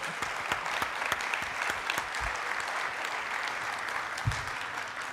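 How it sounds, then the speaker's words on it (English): An audience at a campaign debate applauds the panelists, a steady, moderately soft wash of many hands clapping with sharp individual claps standing out throughout. "ladies and gentlemen, please, a round of applause for our panelists"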